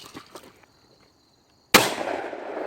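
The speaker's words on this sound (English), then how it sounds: "Out here, still at the range, shooting shotguns now. 20 or 12 gauge." A single loud, sharp shotgun blast from a 20 or 12 gauge gun at an outdoor shooting range follows a short quiet moment, with a ringing decay after the bang.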